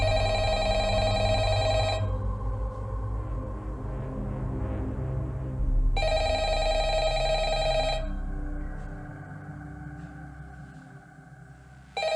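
An old-style telephone rings in the horror game Five Nights at Freddy's, two long bright electronic ring bursts separated by a gap, loud and alone, with a low hum underneath.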